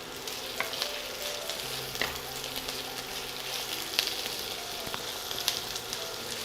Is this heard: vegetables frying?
yes